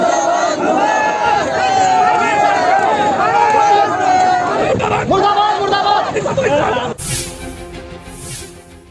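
A large protest crowd in Nuh, Mewat chants and shouts in unison, loud and close with many overlapping voices, before a sudden cut to a different, quieter sound near the end.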